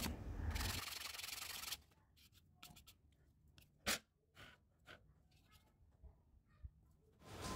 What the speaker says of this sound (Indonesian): selanjutnya kita perlu amplas ya, supaya lebih halus lagi permukaan yang keluaran dari air ini